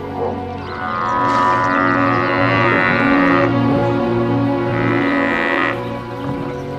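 A wild buffalo lets out long, loud bellowing moos in two sustained calls, close and strained, with no talk over them.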